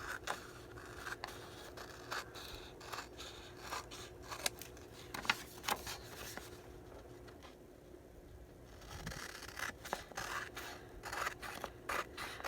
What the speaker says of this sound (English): I'm going to go around the edge, trim it down.